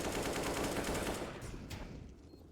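Rapid bursts of rifle fire from a wall bang in CS:GO on the Overpass map, a quick loud volley of shots that trails off into a couple of fainter cracks.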